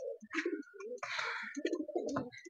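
Pigeons coo close by in soft throaty bursts, several calls in quick succession with a brief breathy flutter, and no one speaks.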